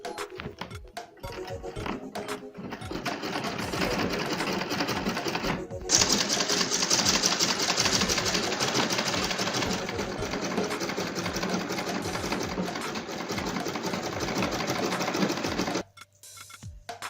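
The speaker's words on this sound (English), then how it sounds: "So let's go straight to the sewing machine." A sewing machine stitches an Ankara fabric zipper pouch in a long, steady, fast mechanical whir of needle clatter, with a short pause near the start and a stop near the end, close up and without speech.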